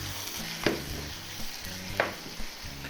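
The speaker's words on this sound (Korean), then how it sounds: "카라멜라이즈 할 겁니다. 이게 네. 막 갈색 될 때까지 볶는" Ingredients sizzle in a hot pan and are stir-fried until caramelized brown, with a steady frying hiss broken by a few sharp scrapes and clacks of a utensil, close and without speech.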